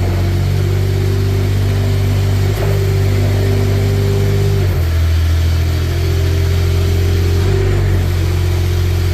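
The Kubota engine of a 2024 Manitou TMM45 4W telehandler runs loud and close, holding a steady mid-pitched drone with a few shifts in revs.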